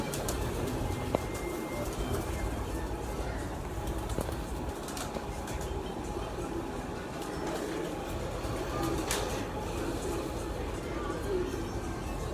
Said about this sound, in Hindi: चौथा कबूतर बैठा जी लाखा।